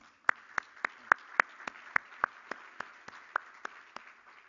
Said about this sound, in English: So once again, one big applause for